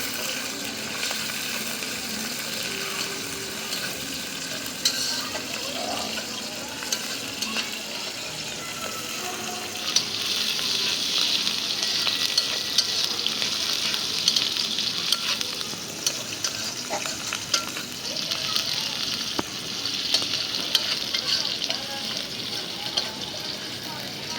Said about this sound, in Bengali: চিংড়ি মাছটা আমি কেটে ধুয়ে রাখছি পেঁয়াজের সাথে একটু ভাজা দিচ্ছি